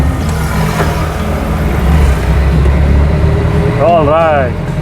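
A 1946 Austin 10 engine drones steadily at low speed around 10 mph, a close, continuous mechanical rumble while the driver moves to shift into second, with people talking over it.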